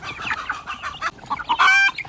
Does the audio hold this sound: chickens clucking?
yes